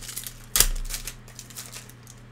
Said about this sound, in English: I almost got the contenders list typed up